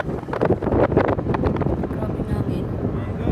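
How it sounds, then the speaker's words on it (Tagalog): Heavy wind at the seaside batters the microphone in loud, rumbling gusts that ease slightly toward the end, with a person talking over the noise. "Mahangin talaga."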